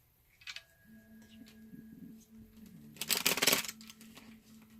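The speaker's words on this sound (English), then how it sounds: "I'm just shuffling these cards" Tarot cards are shuffled by hand in a quiet room, a short burst of papery riffling near the mic, with faint taps and handling noise before it.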